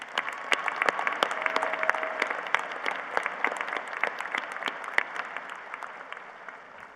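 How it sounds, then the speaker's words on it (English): An audience at a University of Idaho commencement ceremony applauds, producing steady dense clapping from a large crowd that fades slightly toward the end. "Let's give them all a round of applause."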